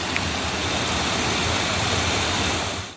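Waterfall at Kuruthikuzhi, fed by a stream flowing past a small church and falling below a footbridge, roars as a steady, dense rush of water, close and loud, without pause until it cuts off at the end.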